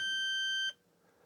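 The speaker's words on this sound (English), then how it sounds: "A beep." A Soroc IQ 120 terminal gives a single steady electronic beep on powering up, loud and close, cutting off abruptly after about two thirds of a second into a faint hum.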